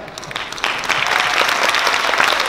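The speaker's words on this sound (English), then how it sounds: "Let's give it up for the secondary school band." Applause for a secondary school band at a Christmas concert: a crowd's clapping starts softly and swells within a second into a steady, full round that holds to the end.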